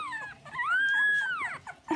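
A 2.5-week-old puppy lets out a thin, rising and falling howl close by, framed by soft whimpers and squeaks.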